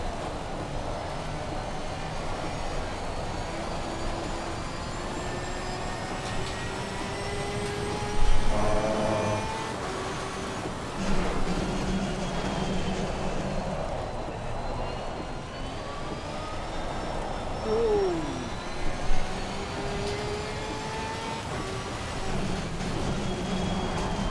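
A racing car in a video game at a wet-dry Barcelona circuit drones continuously at high revs, its engine note rising and falling through gear shifts, with a few louder surges along the way.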